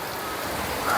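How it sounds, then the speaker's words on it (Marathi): Light, fine drizzle falling outdoors, a soft continuous hiss of small drops that swells slightly toward the end. "बघू पाऊसचा आहे बारीक बारीक आहे थोडा."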